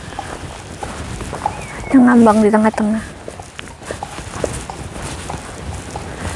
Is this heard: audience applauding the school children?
no